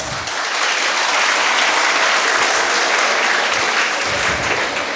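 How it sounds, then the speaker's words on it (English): A large audience applauds at a pre-university college graduation day in Mangalore, a loud, sustained wash of clapping filling the hall without a break, no voices on top. "The applause speaks for itself."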